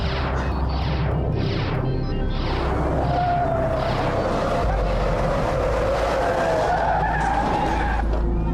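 A car moving on its own, apparently on Jalan Sudirman, tires skidding with a run of repeated loud screeches over a constant heavy engine-and-road roar that stays loud throughout.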